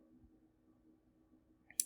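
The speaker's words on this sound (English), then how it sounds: "click Save." A single sharp computer mouse click near the end, clear and close after a quiet stretch of faint low room hum, as Save is clicked in a software dialog.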